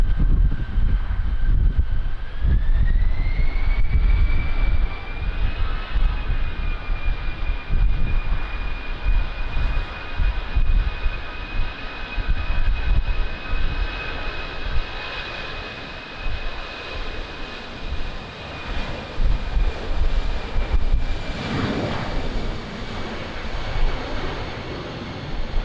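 Airliner on approach to Lisbon Airport in a strong crosswind, with a steady loud engine roar and a whine that rises early on and then holds, plus gusty wind buffeting the microphone.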